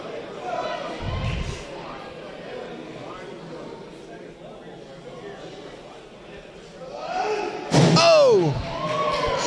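Heavy slams and thuds at a wrestling match amid crowd noise, with a loud impact of a head slammed into a ringside chair near the end, followed by shouting voices.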